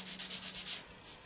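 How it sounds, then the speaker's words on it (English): Sandpaper rubbed over a Chevy starter part to clean it, six quick rhythmic scrubbing strokes up close, then fading to a quieter hiss. "take the sandpaper, a little bit of sandpaper,"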